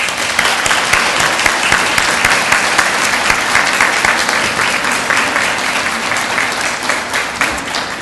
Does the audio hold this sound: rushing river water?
no